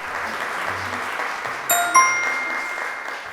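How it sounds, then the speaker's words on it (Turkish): Applause for quiz contestants, a soft, steady wash of clapping from a studio audience, with two bright bell-like dings ringing out partway through. "Alkışlıyoruz arkadaşlarımızı."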